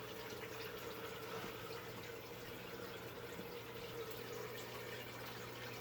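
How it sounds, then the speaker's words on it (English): Indoor water fountains trickle in a steady, unbroken wash of running water, fairly faint, with a low constant hum beneath and no talking. "Some of these fountains are running low on water."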